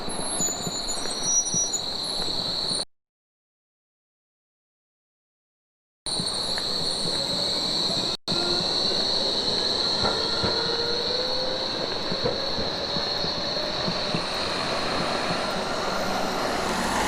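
A Bombardier-built train passes through Berlin with a steady rumble, rhythmic wheel clatter and a high squeal, loud and close. Silence cuts in twice, once for about three seconds and once in a brief dropout.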